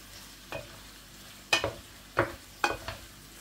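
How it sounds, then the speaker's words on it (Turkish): Onion sautéing with meat in a pan for a chickpea stew, with four distinct stirring scrapes spaced roughly half a second to a second apart over a low, steady sizzle, close and moderately loud, no voices. "Soğanımı da güzelce kavuruyorum."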